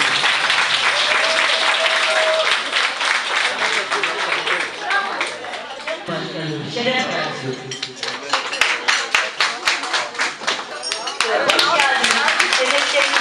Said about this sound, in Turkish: Lütfen kendinizi alkışlayın.